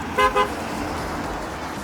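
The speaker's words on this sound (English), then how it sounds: "every time they honk, they were saving the planet" Two quick toots from a passing car's horn ring out close together near the start, then fade into steady traffic rumble on the road.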